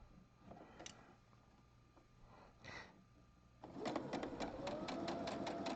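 A regular sewing machine stitching elastic at a slow pace, starting with faint scattered clicks before a steady rapid run of stitching taps in the last two seconds, close and quiet, with speech in the background.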